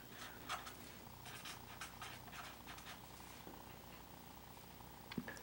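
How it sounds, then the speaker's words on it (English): Soft, close cat purr, a faint steady rumbling rhythm with small bumps and a brief knock near the end, no talking. "Kitty emptied her dish, wants it full again."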